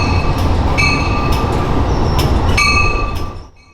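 Amtrak train 409 rolls south into a station with its Metroliner cab car leading. It gives a steady, loud rumble of wheels and rail noise, with a few sharp squeals and clicks, then fades near the end.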